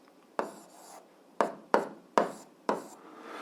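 Chalk or pen strokes while writing an algebra expression come as five sharp taps with scratchy tails, spaced unevenly over a few seconds, close and alone in a quiet room.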